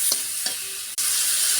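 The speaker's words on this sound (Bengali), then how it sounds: "একটু জল দিয়ে মশলাটাকে ভালোভাবে নাড়াচাড়া করে নিতে হবে।" Spice paste with a splash of water stirred in a pan over a steady sizzle, with two short scraping strokes of a spoon and a brief dropout near the end.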